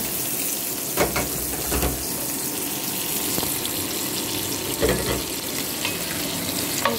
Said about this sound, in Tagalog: igigisa na natin yung bawang at saka sibuyas